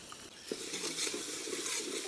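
Native country chicken curry fries in a pan while it is stirred, giving a soft, steady sizzle with faint scraping strokes, quiet and close.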